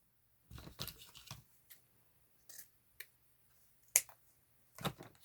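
Scissors cut ribbon for a handmade bow in a series of short, crisp snips and clicks, spaced irregularly with quiet gaps between them, close and fairly soft.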